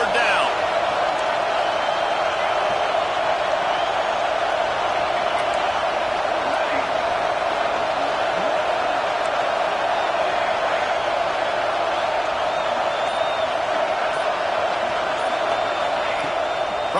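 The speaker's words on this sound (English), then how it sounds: "Decibels rising as the crowd gets behind this defense on third down." A packed college football stadium crowd roars on third down at an NCAA game, a dense, steady wall of cheering that holds at full volume throughout without breaks.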